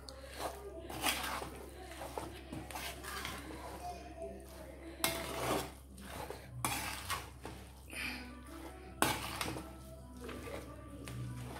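A spoon stirs Thiruvananthapuram-style lemon pickle in a metal pot, making irregular clinks and scrapes against the sides, close and fairly soft, with a voice talking in between.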